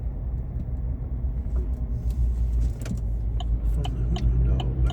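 A semi truck's engine rumbles on a Greenville, South Carolina street, a steady low drone that holds close and moderately loud under faint traffic and road noise, with no talk.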